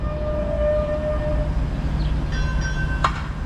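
A train pulls away from a Toronto station with a low rumbling drone, faint tonal whines and a brief horn-like blast near the end, heard from a moderate distance without speech.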